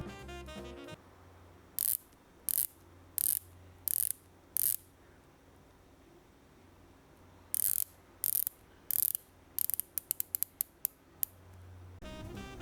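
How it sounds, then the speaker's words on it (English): Dive watch bezels on an Oris Aquis and a Tudor BB58 click crisply as they are rotated, first in a few spaced single clicks, then in a faster ratcheting run, close and clear with no talking. "Now the Oris has 120 clicks, not as smooth as the Tudor."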